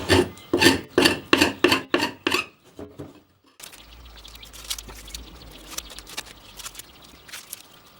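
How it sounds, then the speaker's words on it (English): A hand scraper rasps glue squeeze-out off a wooden box in roughly eight quick, loud rhythmic strokes, then stops; a fainter, scattered scraping and rubbing follows at lower level. "Try with the scraper."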